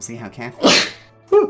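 A single person's sneeze, loud and close, bursting out between short bits of casual talk.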